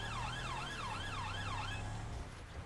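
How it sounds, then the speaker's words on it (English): A British police car siren wails in a GTA 5 driving game, rising and falling in a steady repeating cycle close and loud over a low engine drone, then cutting off near the end. "Just turn the siren off for the time being."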